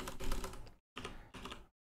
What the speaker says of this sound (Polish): to nawet nie patrząc na klawiaturę, nie, jakoś ciężko mi się pisze